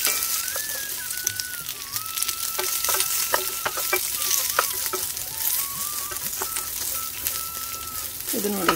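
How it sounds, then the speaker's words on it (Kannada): Chana dal and urad dal fry in a pan, giving a steady crackling sizzle with occasional pops and stirring scrapes, heard close up throughout. "ಉದ್ದಿನಬೇಳೆ ಸರಿಯಾಗಿ ಫ್ರೈ ಆಯಿತು"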